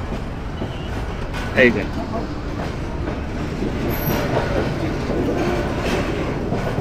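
Train at Cox's Bazar railway station, a steady broadband rumble of the carriages and platform noise running throughout, with a brief sharp clank near the start and people talking nearby.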